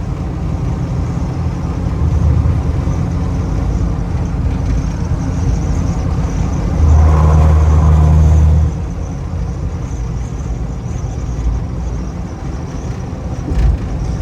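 A 1978 Ford Bronco cruising at highway speed gives a steady mid-pitched engine drone and road rumble. The level swells briefly as it revs up, then settles back, with no voices.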